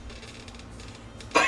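A single short cough bursts out near the end, loud and close, after a stretch of quiet room tone.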